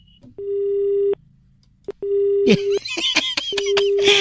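A telephone busy tone beeps repeatedly in steady on-off pulses, loud and close, interrupted by clicks and a burst of laughter-like noise.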